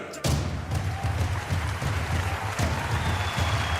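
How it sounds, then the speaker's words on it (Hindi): An audience bursts into applause on a dance show stage, welcoming a dancer; a sudden loud wash of clapping that continues steadily with a rhythmic thumping beat underneath. "जोरदार तालियों के साथ स्वागत कीजिए हमारे देश की शान और हौसले की पहचान सुधा"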